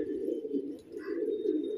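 A pigeon coos in low, throaty rolling phrases, close and steady, with a faint higher chirp briefly above it.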